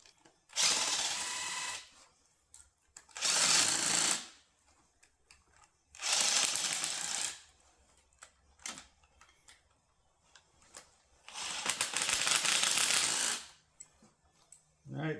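A ratchet with a swivel works the 13 mm fuel rail bolts on a 2011 Buick Enclave in four separate bursts of rapid clicking, each a second or two long, with quiet gaps and small tool clinks between.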